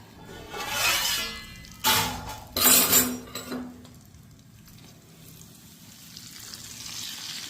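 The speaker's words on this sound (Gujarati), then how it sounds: "અને આપણું તેલ ઉકળી ગયું છે તો હવે આપણે તેલનો વઘાર કરી લઈએ" Hot oil tempering poured over pickle masala sizzles in short bursts, with a few loud hissing splashes and light clinks of a dish, then fading to a quiet hiss.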